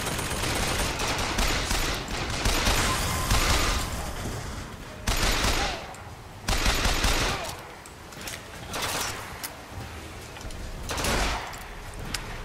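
Bursts of rapid automatic gunfire from BioShock Infinite gameplay, loud and dense, recurring in waves with pauses between, over game ambience with someone talking intermittently.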